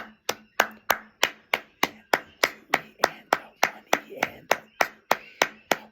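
Sharp, evenly spaced hand claps, about three per second, counting out a rhythm for a beginner guitar lesson, keeping a steady beat close up with no talking.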